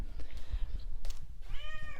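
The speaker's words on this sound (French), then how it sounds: "Bah oui, tu peux miauler, vas-y." A house cat meows indoors, a short rising call near the end preceded by faint shuffling and a soft earlier mew, close to the microphone.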